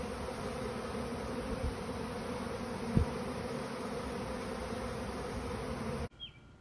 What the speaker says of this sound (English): So you see the bees in there.